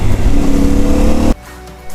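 A CFmoto 450 MT motorcycle on its standard exhaust roars loud and close with a steady engine drone for over a second, then cuts off abruptly to a quiet idle-like lull, with a slight rise again at the end.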